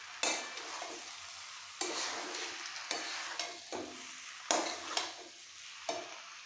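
Mixed vegetables for a labra curry are stirred and fried in a pan: repeated scraping strokes of a spatula at irregular intervals, with a soft sizzle underneath.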